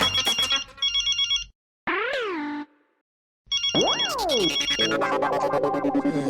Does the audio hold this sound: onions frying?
no